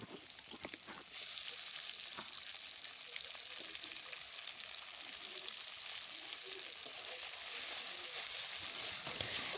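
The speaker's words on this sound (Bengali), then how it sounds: "টমেটোটা একটুখানি ভেজে নিচ্ছি।" Chopped tomato fries with onion in a pan for a cauliflower fish curry, a steady loud sizzle that jumps up after a brief quieter start and continues with light stirring sounds.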